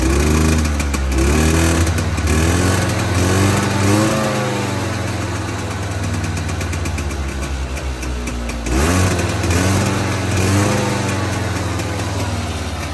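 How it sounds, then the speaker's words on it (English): Two-stroke engine of a Polaris Scrambler 400 ATV running, a loud, close, buzzing idle with repeated blips of the throttle rising and falling in pitch, then settling back to a steady idle. "I've never been a big fan of the old two-stroke sound"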